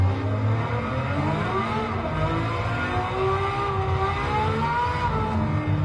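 A tuned car's engine in the Gran Turismo 7 racing game hums and revs continuously, the pitch rising and falling through gears at a loud, steady level.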